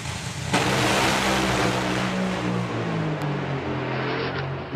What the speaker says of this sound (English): Almost a full run for Suzanne, 4:07 at 2:41.